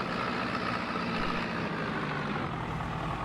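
A tractor engine idles in the Farming Simulator 25 game, giving a steady, even low drone with a dense rumble that holds unchanged throughout, with no voices over it.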